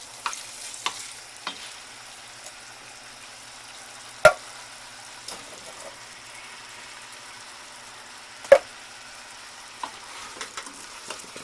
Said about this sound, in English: So I'm going to add the green beans.